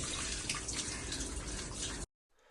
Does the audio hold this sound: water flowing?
yes